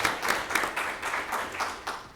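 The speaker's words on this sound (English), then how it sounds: "Also another applause" Applause from attendees at a Stafford school board meeting, a thin, moderately quiet patter of claps with a few sharper hand hits, steady for a couple of seconds.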